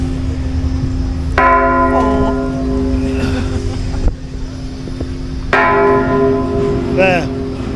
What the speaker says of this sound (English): Up in the background is the bell. You can see it chiming.